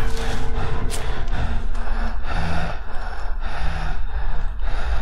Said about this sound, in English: can you stop breathing that loud?